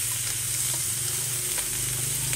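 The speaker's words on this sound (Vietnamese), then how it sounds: "trước tiên là mình phải xào rau củ cho nó chín mềm" Vegetables stir-fry in a hot pan for a vegetarian dry-fried noodle dish, a continuous close sizzle with light scraping of stirring over a low steady hum, no talking.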